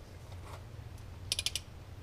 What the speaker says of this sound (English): And my torque wrench is already set. I had it set from yesterday. I'm just switching out bits.